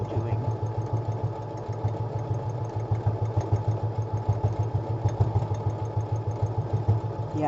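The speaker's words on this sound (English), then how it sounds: "I'm going to sew, just like I know what I'm doing" A sewing machine stitches a fabric project bag with a steady, rhythmic mechanical whir and fast, even needle pulses that run unbroken from start to finish.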